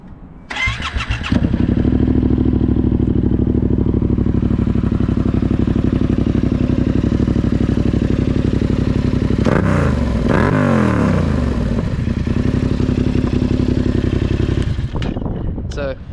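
A Yamaha MT-07 motorcycle engine fires up and idles with a deep, loud exhaust rumble, blipped into a couple of sharp revs near the end.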